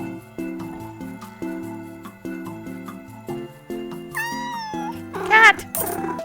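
Cartoonish cat meows from the video game Minami Lane pop up twice near the end, bright and close over a looping game melody.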